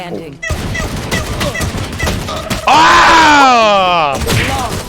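Rapid gunfire rattles in a shooting video game, with sharp repeated shots early on. A loud drawn-out groaning voice and other talk sit over the action in the later part.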